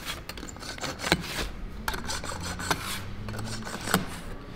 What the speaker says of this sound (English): grab our scribe, put it down to 1 inch. And we're gonna mark all four corners.